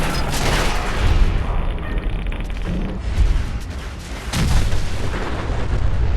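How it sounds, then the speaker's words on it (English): Gunfire and explosions from a sniping fight against a sentry bot at the Castle in the game Fallout 4 come as loud booming blasts and dense rumbling impacts that fill the whole stretch, with no talking. "a little stealth sniping"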